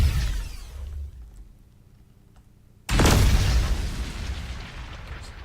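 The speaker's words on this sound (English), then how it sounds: "this is like a mix between a flak cannon and a rail gun" A game weapon that blends a flak cannon with a rail gun fires once, a sudden loud booming blast that cuts in after a quiet stretch and lingers as a broad roaring rush.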